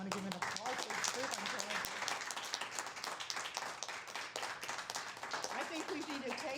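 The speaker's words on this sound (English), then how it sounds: "I just want to give an applause for this group." A room of people at a public education event claps for a group of presenters, a quiet, rapid patter of hands with voices talking faintly underneath.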